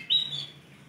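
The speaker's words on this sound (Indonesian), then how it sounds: "Ready burung Yorkshire Voi." A Yorkshire panda canary gives a brief bright chirp up close, a single clear note early on that fades quickly into quiet.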